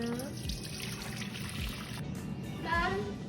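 Broth pours into a pot for breakfast ramen with ham, a soft continuous trickle and splash that continues steadily, faint and close, with some clinks and light movement mixed in.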